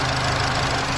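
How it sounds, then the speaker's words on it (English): Car engine running at a steady idle while its water pump is checked for a fault, a continuous close, loud low rumble throughout with no clear starting crank. "Let's start the engine and see what it can give us now."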